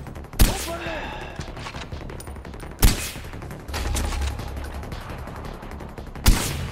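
Gunshots in Far Cry 4 ring out as three loud, sharp single shots spaced a few seconds apart, with ringing tails and a low rumble between them.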